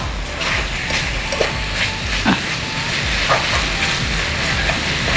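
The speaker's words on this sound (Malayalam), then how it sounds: "ഒരു സ്പൂൺ കണക്കിന് ഞാൻ ഇതിലേക്ക് എണ്ണ ഒഴിച്ച് കൊടുത്തിട്ട് നമുക്കിതിനെ ഒന്ന് ഇളക്കാം" Chicken frying in oil with turmeric and pepper powder, stirred in a pan for a chicken pulao, giving a steady close sizzle broken by a few scraping stirs, with no talk.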